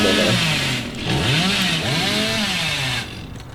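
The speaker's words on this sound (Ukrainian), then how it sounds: "Він страшно розганяється з бензопилою, але ним жутко несе" A chainsaw revs hard in Dead by Daylight as the killer sprints with it. The engine whine climbs and swoops in pitch, loud and close, then drops off near the end.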